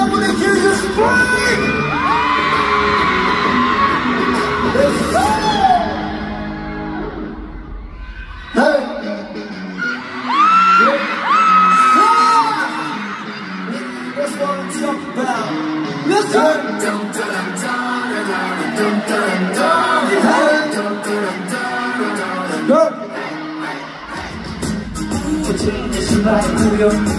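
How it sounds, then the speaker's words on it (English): Concert crowd at Oakland Arena screaming during a K-pop show, loud sustained high-pitched screams and whoops in waves, briefly dropping out and then surging again, with amplified voice and music mixed in. "Okay, Oakland, I wanna hear you scream!"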